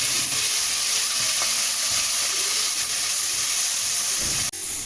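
A small amount of chopped tomato sizzles in a pan of hot oil with onion and asafoetida, a loud, steady hiss close by, with a short cutoff near the end.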